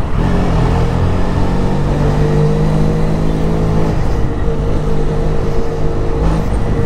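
Benelli Leoncino 500 motorcycle engine running hard on a test ride, a loud, continuous droning hum with steady engine harmonics and a slight shift in pitch midway, close and unbroken with no talk.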